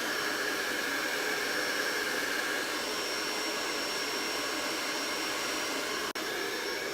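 A dryer blows steadily to dry craft snow paint on a snowman scene, its close, loud whooshing roar holding constant until it cuts off abruptly near the end, then resumes.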